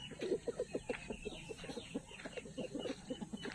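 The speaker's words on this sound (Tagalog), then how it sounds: "Yung mga manok ko." Chickens cluck steadily at feeding time in a farmyard, a dense, busy chorus of short repeated clucks from several birds close by, with no talk.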